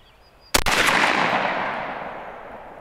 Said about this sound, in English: So I'm gonna shoot one more to truth that.